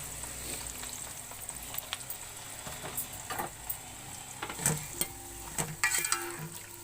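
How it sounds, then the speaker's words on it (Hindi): Long-sliced onions frying in heated cooking oil for a beef dish, a steady close crackling sizzle with occasional louder pops and stirring clatters toward the end, no voices. "अब प्याज को मैं ब्राउन कर लूँगी।"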